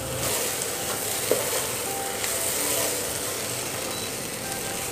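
Paneer and vegetables sizzle steadily in a hot pan as they are stirred, a constant close frying hiss with a few light scrapes.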